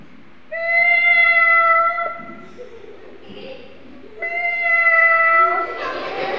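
A human voice imitating a cat, giving two long, drawn-out, tonal meows with a short pause between them, close and loud.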